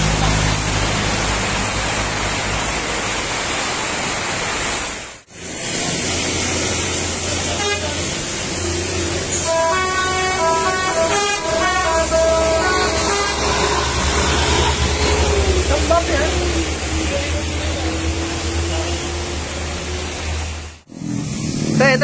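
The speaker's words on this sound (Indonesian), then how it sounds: "Ada truk kayaknya. Ada truk." A truck passes on a roadside route with its horn honking in a series of toots, loud and close over constant traffic noise, with a brief drop in sound at either end.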